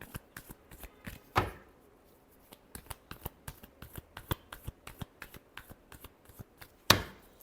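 Tarot cards being shuffled by hand, a quick run of soft riffling taps and flicks with two sharper card snaps standing out, close and fairly quiet.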